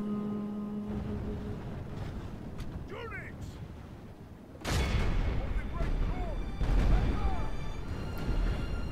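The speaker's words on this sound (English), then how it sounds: "I just bombard with my cannons for a while." Cannons bombard castle walls during a siege battle in the video game Medieval II: Total War, with a sudden heavy boom followed by continuous rumbling battle noise under voices.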